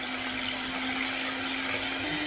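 Electric mixer whisking egg whites with vinegar on a low setting for a coconut cheese butter cake, a steady close motor whine with an even hum, running continuously, no talking.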